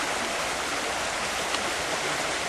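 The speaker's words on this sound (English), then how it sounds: "Now, I'm going to take two gold pans, and I'm going to put a little water here." Water poured into a gold pan in the field, a continuous loud splashing gush with no pauses, close up.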